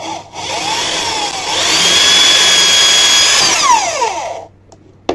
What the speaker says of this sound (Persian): دو تا پیچ بوکسی هم با دریل سه نظام 10 ببندیم.